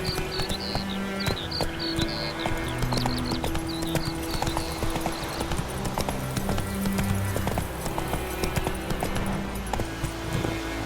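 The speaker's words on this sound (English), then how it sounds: "Whoa there, Roach." Roach, Geralt's horse in the video game The Witcher 3, clip-clops at a steady walking rhythm, hoofbeats close and continuous over game music and ambience, with a brief faint whinny.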